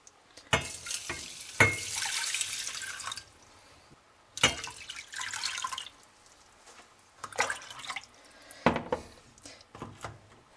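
Cold water is poured from a cup into a small pot of trahana in a home kitchen, in four separate bursts of splashing with quiet pauses between them.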